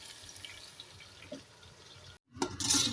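Water poured into a cooking pot of tomatoes for a pulao, a short burst of splashing and trickling near the end after a low background hiss.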